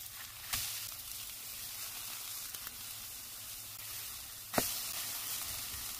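An egg and carrot pancake fries in a multi-cup egg pan, giving a soft steady sizzle with two sharp clicks or taps of a utensil, one near the start and one later.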